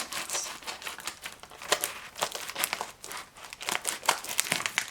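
Plastic packaging around P.Louise makeup being opened, giving continuous close crinkling and crumpling with sharp rustling bursts throughout, quiet and without talk.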